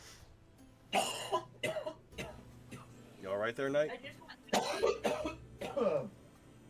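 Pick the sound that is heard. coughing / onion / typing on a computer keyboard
coughing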